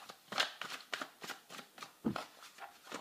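Tarot cards are shuffled in a steady rhythm of soft riffling flicks, a dozen or so in quick succession, close up and moderately quiet with no voice over them.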